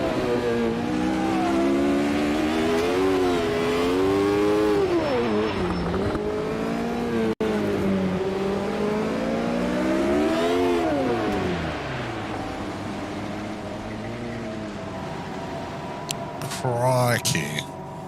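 A race car in Automobilista 2, driven with traction control off, revs loudly and steadily, its engine pitch climbing and dropping through repeated gear changes, with a brief squeal near the end and someone talking over it.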